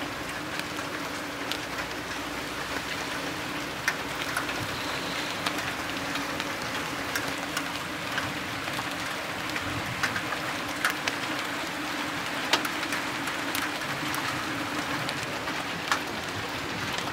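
Large hailstones pelting down during a heavy thunderstorm in Jelgava, Latvia, a steady dense rattle of impacts with scattered sharper hits, continuous and fairly loud throughout.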